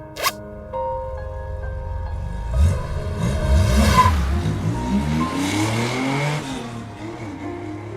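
A car in the video game Love and Deepspace accelerating, its engine note rising in sweeping harmonic glides over a steady rumble, loud and close, with a bright tone at the start and no talk.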